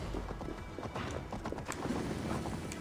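Horse hooves clip-clop steadily in the video game Assassin's Creed Valhalla, a continuous trotting rhythm up close with a brief whinny-like tone and faint game ambience underneath.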